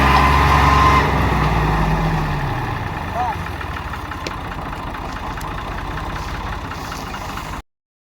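A tractor engine idles and revs while pulling a trolley stuck in the ground, loud and close at first and then easing to a steadier, quieter knocking rumble before cutting out.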